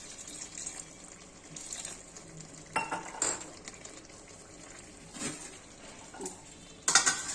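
A metal lid goes onto a pot of spinach, potato and eggplant curry in a kitchen, with a few sharp clinks and clatters of cookware spaced over a quiet background, ending in a louder clank.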